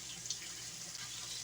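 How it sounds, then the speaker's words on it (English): Warm tap water runs steadily over frozen tomatoes in a kitchen sink, a continuous soft splashing hiss. "I'm going to run warm water over them and remove the peelings"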